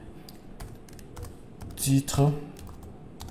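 Keys clack on a computer keyboard in quick, irregular taps, close and crisp, while a voice speaks briefly in the middle.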